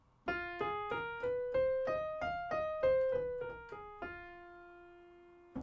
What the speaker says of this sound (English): now it would sound like this as a blues scale